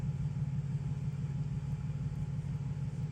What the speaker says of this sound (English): There's a muscle car backing up here, trying to park.